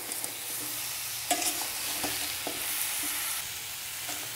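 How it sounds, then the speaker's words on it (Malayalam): Honey gooseberries stirred in a simmering syrup of sugar, jaggery and honey, with a steady bubbling hiss and a few soft scraping strokes of the spoon against the pan. "ചെറുതായിട്ടൊന്ന് ഇളക്കി കൊടുക്കണം അടിയിലൊന്നും പിടിക്കണ്ട"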